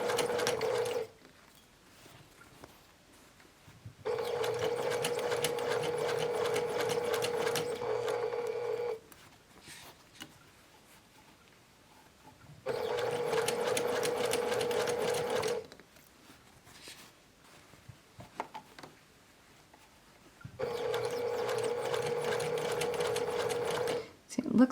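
A sewing machine stitches fabric for a round drawstring bag in steady, close bursts of several seconds each, with quiet pauses between runs as the fabric is readjusted.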